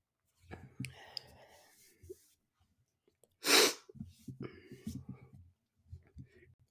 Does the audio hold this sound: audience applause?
no